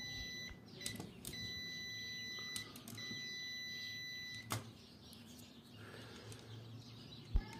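A few short, high electronic beeps from a continuity tester checking an electrical contactor's contacts sound intermittently over a low steady hum, some held briefly, with small clicks in between.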